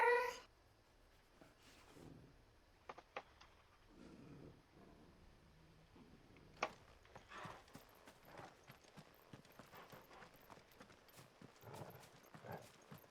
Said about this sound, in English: Yeah, Minecraft has cats.